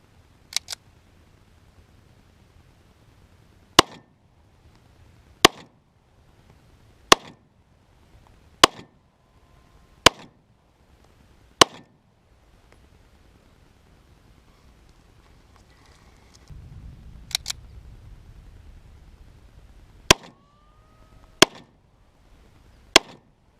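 A Romanian military surplus TT-33 pistol in 7.62 Tokarev fires eleven sharp, loud shots outdoors. Most come singly at a steady pace of about one to two seconds, with a pause midway that is filled by faint rustling.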